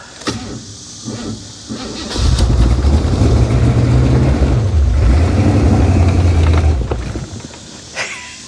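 A burnt 1955 Chevy Bel Air on a new carburetor runs loud and close, with a rough rumbling engine note that rises for several seconds and then drops back to a quieter idle.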